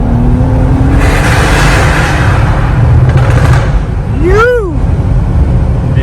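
Exhaust pops and crackles from a tuned stage 2 2017 BMW G30 540i, heard from inside the car as it accelerates through a tunnel, with engine roar, a few sharp pops and a brief word of speech.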